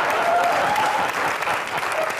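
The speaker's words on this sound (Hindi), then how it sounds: "तुम ताली बजाती रहती हो बीच में बैठ के" Studio audience at the Comedy Nights With Kapil television comedy show breaking into steady, dense applause that fills the room throughout, with a few voices mixed into the clapping.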